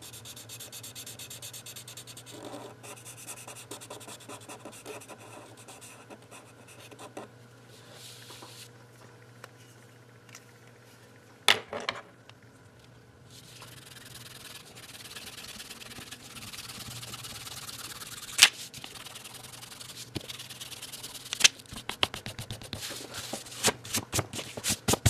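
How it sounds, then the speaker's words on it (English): A pencil eraser rubs out sketch lines on drawing paper in quick back-and-forth strokes, a soft, steady scrubbing that comes and goes, with a few sharper scuffs toward the end. "we will erase our original pencil lines"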